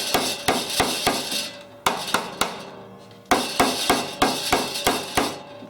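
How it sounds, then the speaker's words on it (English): A planter box post is hammered into place with a run of loud, close, evenly spaced blows, each ringing briefly, pausing once in the middle before the strikes resume. "we pound this in"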